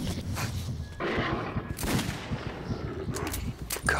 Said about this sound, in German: Ich frage mich, wer da am Schiessen ist.